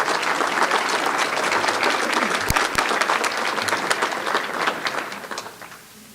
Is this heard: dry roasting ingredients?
no